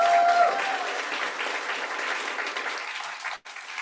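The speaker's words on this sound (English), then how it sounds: "Let's give them a round of applause." Audience applause at a Pacific Northwest small business pitch competition, a dense steady wash of clapping from a large crowd that holds evenly and cuts off abruptly near the end.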